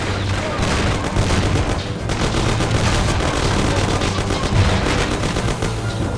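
Dense gunfire in the video game Mafia rattles continuously, with overlapping rapid bursts and booming shots loud and close, unbroken for several seconds.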